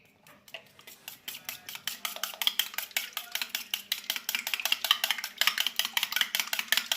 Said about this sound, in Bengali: একটা বাটিতে 2টো ডিম ভেঙে নিতে হবে। তারপর পরিমাণ মতো নুন ও গোলমরিচ গুঁড়ো দিয়ে মিশিয়ে নিতে হবে।